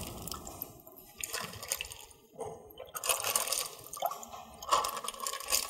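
Water poured into a plastic bag in a classroom physics pressure experiment, with splashing and filling bursts, a brief pause midway, then steadier liquid rushing and dripping up close.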